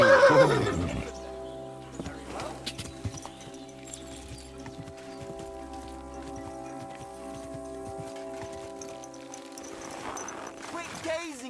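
A horse whinnies loudly and close in the medieval game Kingdom Come: Deliverance II, the neigh opening the moment before a steady musical drone with soft hoof clops, and a second whinny comes near the end.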